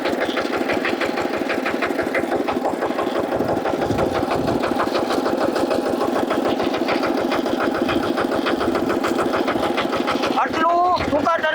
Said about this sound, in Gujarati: હાવ ટૂંકા ટનથી આ ટ્રેક્ટર વરે છે.